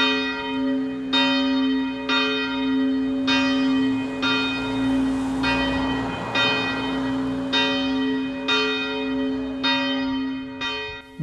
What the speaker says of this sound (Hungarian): Biharnagybajomi látogatásunk a déli harangszóval zárul